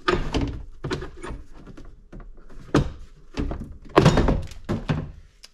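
A series of sharp pops and thunks as plastic and metal truck door panel clips pull free, about a dozen in irregular bursts, close by, with rustling handling noises between them.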